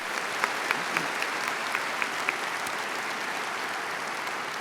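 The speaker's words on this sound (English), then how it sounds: "We've got to give young Case a round of applause for a great year of service." Sustained audience applause at a campus muster ceremony for a student body president, a steady, even wash of many hands clapping at moderate distance with occasional sharper claps.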